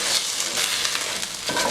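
Rice crisping in a hot pan, a steady, bright sizzle that holds at an even level. Near the end comes a brief stirring scrape.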